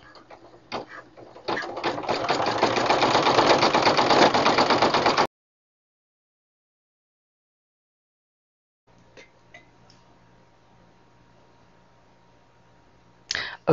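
A Brother PE770 embroidery machine stitching a zigzag makes a loud, rapid, even buzz for a few seconds and then stops. Silence follows, then a faint hum and a few small clicks.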